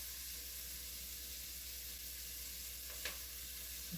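Garlic sizzles steadily in a hot pan as a Creole jambalaya is cooked, a constant soft frying hiss with one brief higher crackle near the end and no talking.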